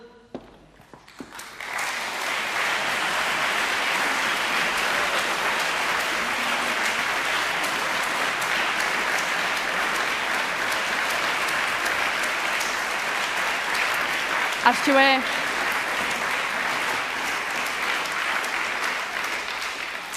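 A large audience at a Romansh song festival applauds in a dense, steady wash of clapping that starts abruptly and holds loud and even, without talk.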